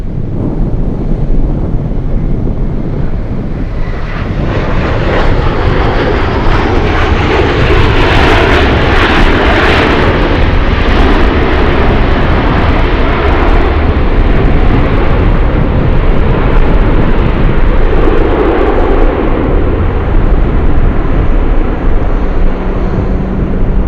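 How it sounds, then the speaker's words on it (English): An Alaska Boeing 737 jet arrives at Anchorage from Kodiak in gusty wind, its engines roaring loudly and steadily throughout, mixed with buffeting wind noise on the microphone. "We have the 737 ALAKSA now. This one flying in from Kodiak."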